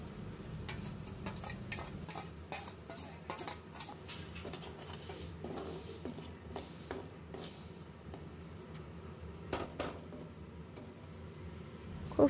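Spice paste for a katla fish curry stirred and fried in oil in a pan, with steady close sizzling and repeated spoon scrapes throughout, no voices.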